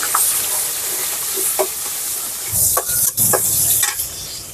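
Cardamom, cinnamon and chopped onion hit hot frying oil, giving a steady loud sizzle broken by several sharp stirring scrapes, with no talking.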